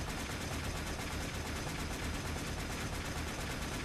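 Gunfire in the video game Warframe forms a dense, continuous rattle of shots at an even level throughout, with no talking.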